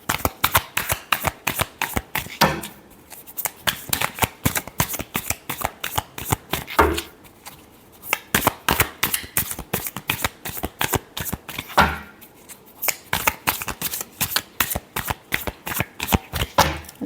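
A deck of tarot cards is shuffled in repeated quick riffling bursts, crisp and close, with short pauses between rounds and no talking.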